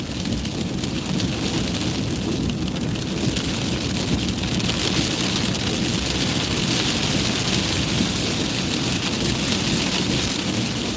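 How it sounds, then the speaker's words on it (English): A heavy rainstorm with thunder gives a loud, constant downpour roar over a deep, sustained rumble, steady from start to finish with no talking. "this rainstorm is nothing"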